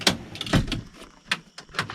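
A table drawer in a 79 Series Landcruiser camper build slides out with a rumbling glide, joined by several sharp knocks and clunks of fittings, all close and loud.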